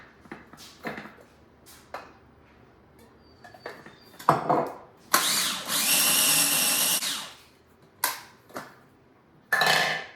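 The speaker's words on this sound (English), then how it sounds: "So I'm just gonna keep blending all this" Blender whirring through pesto ingredients to a paste, one sustained loud burst of about two seconds after short clinks and taps, with a couple of brief pulses following near the end.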